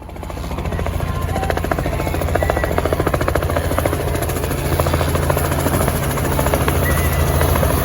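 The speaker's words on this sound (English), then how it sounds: "helicopters are basically kind of like drones, all except it only has one propeller or rotors and a tail propeller" A helicopter flies nearby, its rotor producing a loud, steady rapid chopping thud over a continuous engine drone and whine that holds constant throughout.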